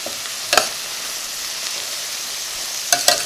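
Garlic and vegetables stir-frying for chicken fried rice give a constant close sizzle, broken by two short bursts of spatula tossing and scraping, one near the start and one near the end.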